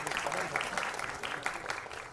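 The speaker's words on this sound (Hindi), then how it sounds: "प्लीज इन सबको जोर से तालियों से नवाजिए।" Audience applause at a ghazal album launch event, a steady wash of clapping from a seated crowd lasting the whole moment, moderately loud with some voices mixed in.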